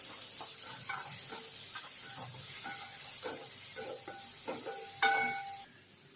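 Crushed ginger, garlic and green chilli stirred and fried in a pan for a village-style chicken curry, giving a steady close sizzle with repeated scraping stir strokes and a sharper clatter near the end.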